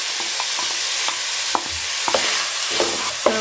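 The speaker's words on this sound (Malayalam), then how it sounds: "സവാളയും ഉള്ളിയും കൂടെ നല്ലതുപോലെ ഒന്ന് വഴറ്റിയെടുക്കാം." Onions and shallots sautéing in a pan for a chicken curry, sizzling steadily up close while a utensil scrapes and taps through them in short, irregular strokes.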